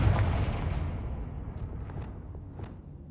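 An explosive blasting spell in the Hogwarts Legacy video game hits with a heavy booming burst that decays into a rumbling tail, with a few light thuds and clicks scattered after it.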